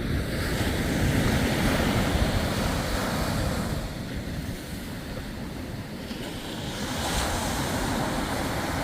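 Ocean surf breaks steadily at the Mfolozi river mouth near St Lucia, with strong wind buffeting the microphone in a constant loud roar that swells and eases, no voices.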